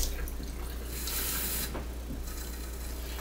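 Cold water runs from a sink tap in a steady hissing stream, fairly close and continuous, without any speech.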